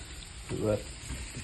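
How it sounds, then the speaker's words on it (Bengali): Turmeric, chili and cumin powders fry in a pan with a soft, close sizzle and a brief swell of stirring in the middle of the short stretch, quiet overall. "ভালো করে কষে নিই মশলাটা"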